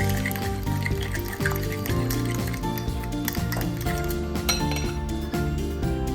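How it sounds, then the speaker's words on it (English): Maple syrup and vanilla extract being mixed into vegan oatmeal chocolate chip muffin batter in a bowl, with steady clinking and scraping of a utensil against the bowl, loud and continuous throughout. "And then we're going to mix it again to combine"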